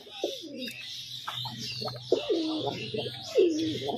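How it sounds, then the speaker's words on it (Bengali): A male pigeon coos repeatedly inside a cage, a series of rolling, throaty calls close to the microphone over a steady low hum, with faint chirps from other birds behind. "কিরকম ডাকছে খাঁচার মধ্যে।"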